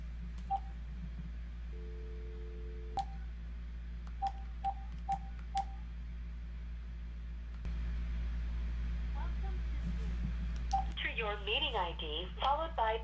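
A telephone dials into a Zoom meeting, producing a quiet series of short touch-tone beeps spaced irregularly over a low hum, with a person talking.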